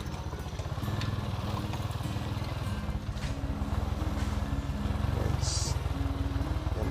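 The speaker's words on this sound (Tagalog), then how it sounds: "Pero kaya naman po ng motor natin yan." Motorcycle engine running steadily as it climbs a rough, difficult mountain road toward a hillside farm, the low rumble close and continuous throughout.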